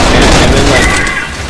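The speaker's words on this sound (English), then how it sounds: "the bullets bouncing off shit, you're getting sparks everywhere" Dense gunfire with ricocheting bullets in the shooter Trepang2, a loud, close burst of overlapping shots and impacts that slowly tails off, with a voice talking underneath.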